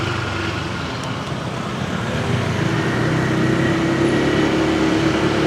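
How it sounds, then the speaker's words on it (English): Steady road traffic near the beach in Legian, Badung, Bali: a continuous loud rumble of passing cars and motorbikes with engine drone building slightly louder toward the end, no talk. "There'll be a lot more traffic around."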